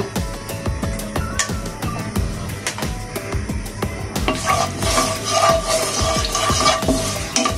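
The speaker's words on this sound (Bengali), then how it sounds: "এটা কিছুক্ষণ ভাজবো।" Whole bay leaf, cinnamon, green and black cardamom and cloves fry in hot oil in a pan, a close, steady sizzle broken by repeated scraping stirs, the hiss growing brighter and louder midway.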